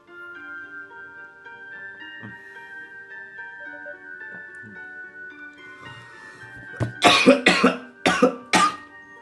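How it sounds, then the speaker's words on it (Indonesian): Several harsh coughs in quick succession, close and loud, following a stretch of steady tonal music. "Sampai batuk-batuk gua."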